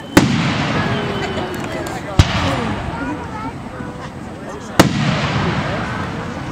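Fourth of July fireworks display in Glens Falls, New York, with three sharp bursts standing out over a steady, crackling wash of continuous explosions and crowd noise throughout.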